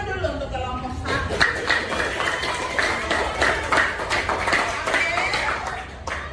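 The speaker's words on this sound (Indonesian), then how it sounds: "Tepuk tangan dulu untuk kelompok 1." A classroom of students applauding for group 1, with dense, continuous clapping of many hands that fades toward the end, and a teacher's voice briefly heard over it.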